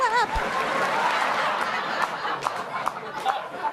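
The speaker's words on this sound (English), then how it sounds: "Oh, shoot, it's time to clap" A studio audience at a late-night talk show gives scattered applause mixed with chatter and light chuckles, moderately loud and diffuse with a few sharper claps standing out near the end.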